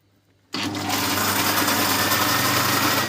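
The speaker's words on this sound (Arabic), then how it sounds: "وهقفل الخلاط بتاعي كده وهشغله" A blender mixing molten cake batter starts abruptly and runs at a steady, loud high-pitched whir, close by, with no voices.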